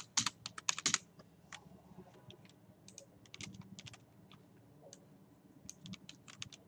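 Quiet, close typing on a computer keyboard as an email address is entered into a satellite-image website registration form, with irregular clicks, a quick flurry at first, then sparser keystrokes.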